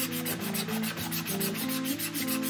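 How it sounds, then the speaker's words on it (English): Sanding by hand to remove saw burn marks from wood gives a steady, close, rough rasp, with quick back-and-forth strokes in a continuous rhythm and no talking. "I got some saw burn marks in there. I'm going to try to sand that off today."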